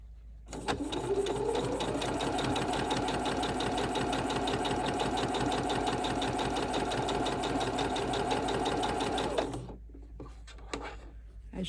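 A sewing machine stitches vintage fabric in one long steady run, a rapid even needle rhythm for about nine seconds before it stops, followed by quiet handling sounds.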